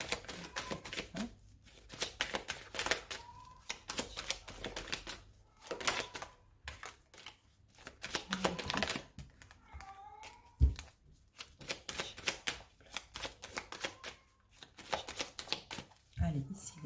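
Tarot cards being shuffled and cut at a table, with rapid clusters of soft riffling clicks and slaps in uneven bursts, heard close and fairly quiet alongside intermittent French speech.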